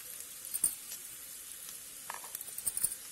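Green chillies and ginger garlic paste sauté in a pan, giving a faint, soft sizzle with light crackles and occasional stirring scrapes, no voices present.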